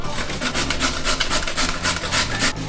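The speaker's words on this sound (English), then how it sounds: "So I got my box grater on the biggest hole, and I'm gonna grate my 2 beets." Two beets are grated on the biggest holes of a box grater, a close, loud series of rapid rasping strokes in a steady rhythm, with no talk.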